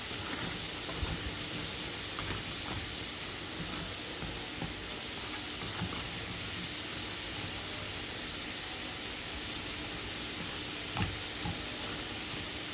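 A little oil sizzles in a pan at medium heat, a steady close hiss with faint crackles and occasional soft pops running unbroken and alone throughout.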